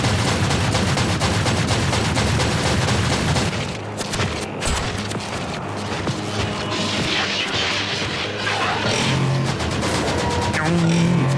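Gauss rifle fire in a Warhammer 40K short film, a dense barrage of rapid energy-weapon shots with booms and crashes filling the whole stretch, continuous and loud.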